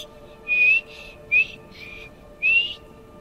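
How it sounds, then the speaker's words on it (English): A character in the video game Skyrim gives short whistled notes, first a longer one, then a quick chirp, then another longer tone, fairly quiet over a low steady background hum. "Can you help me learn how to whistle?"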